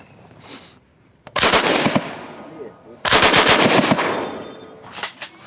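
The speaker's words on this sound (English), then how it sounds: "you can hear gunfire nearby, but it's they've got a firing range here for tourists" Two long bursts of rapid automatic gunfire at a tourist firing range in Vietnam, loud and close, separated by a short pause, with no talking.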